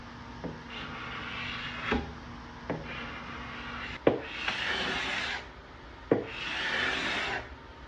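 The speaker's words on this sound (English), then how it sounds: "the most satisfying part of using a carbide scraper, when it just peels off in these ribbons" A carbide scraper peels old finish off the wooden top of a 1980s table in long pulls, each stroke a close, dry rasping scrape that begins with a sharp catch and is repeated about five times.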